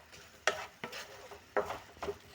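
Salted brinjal stirred in a pan in four distinct scraping strokes, each a short sharp rasp followed by a softer sizzle, close and fairly loud with no talking.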